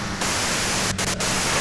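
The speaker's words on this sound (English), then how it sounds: "you can do it through the white noise" Radio static in the game Disco Elysium, a loud, dense hiss of white noise that swells in early and holds steady with two brief dropouts, no voices present.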